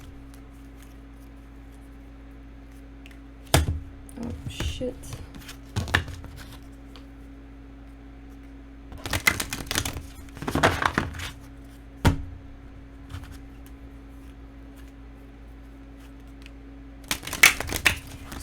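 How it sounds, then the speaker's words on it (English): A deck of tarot cards is shuffled in a quiet room, bursts of crisp riffling and flicking separated by pauses, close and fairly soft over a low steady hum, with a brief muttered exclamation. "Let's shuffle this deck."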